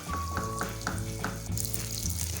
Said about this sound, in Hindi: हमने 2 टेबलस्पून बटर लिया है और इसको मीडियम फ्लेम पे हम मेल्ट करेंगे।